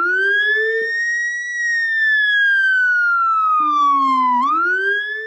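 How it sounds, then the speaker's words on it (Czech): A Scania fire engine of the Moravian-Silesian fire and rescue service sounds its siren with the low-frequency Rambler unit: a loud, close wail slowly rising and falling over a deep, rumbling undertone that cuts in and out. "Automobil je nově u HZS Moravskoslezského kraje vybaven nízkofrekvenční sirénou Rambler, která zlepšuje slyšitelnost automobilu a způsobuje pocit vibrací."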